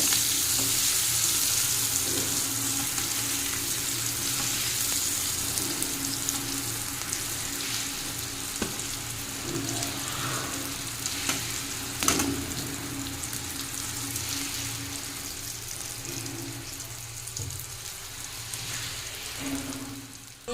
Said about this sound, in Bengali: এখানে বেগুন ভাজা করছি